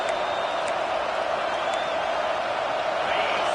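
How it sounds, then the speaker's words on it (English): A football stadium crowd at Texas vs LSU roars behind the defense, a dense, steady wash of cheering that holds at an even level throughout. "The crowd getting behind this defense as they try to get a stop in the red zone"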